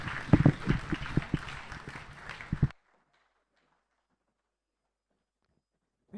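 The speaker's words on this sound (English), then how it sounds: "Another round of applause, ladies and gentlemen." Brief applause from a conference audience in Banjul, The Gambia, a short burst of clapping that cuts off abruptly into near silence.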